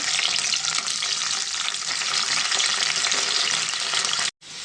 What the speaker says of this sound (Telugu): ప్రిపేర్ చేసుకోవడానికి ముందు దొండకాయలు ఫ్రై చేసుకుందామండి